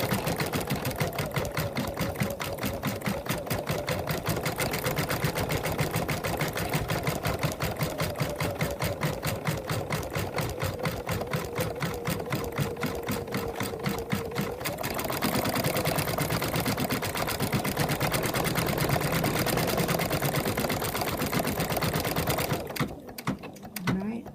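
An embroidery machine stitching a grey nose on an in-the-hoop bunny, a fast, steady mechanical rattle of needle strokes that keeps going close up, shifting pitch partway through and stopping near the end.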